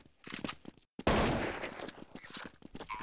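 Counter-Strike 1.6 gunfire: a burst of rapid close shots, a brief silence, then one loud blast with a long rumbling tail and further quick shots fading under it.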